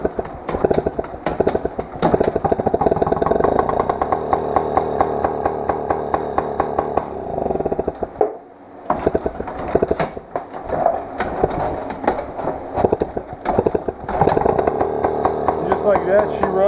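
A small two-stroke engine, sprayed with carb cleaner, revs and sputters loudly, rattling at high rpm, briefly cutting out before roaring back up again.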